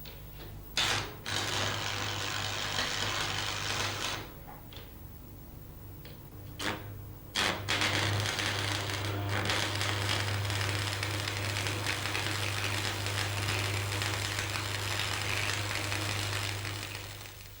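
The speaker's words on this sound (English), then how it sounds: "weld it just like the bead on plate you started with" Arc welding a joint between two steel plates propped above a bench: a continuous close buzzing crackle with a low hum, briefly broken by short pauses and restrikes early on, then running steadily.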